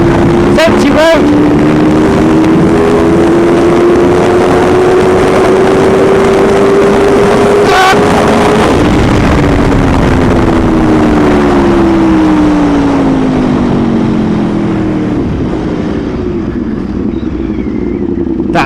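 An Aprilia RSV4 RF motorcycle engine accelerating on an open road, its loud, steady high-pitched whine rising through the gears. The rider talks over the engine noise.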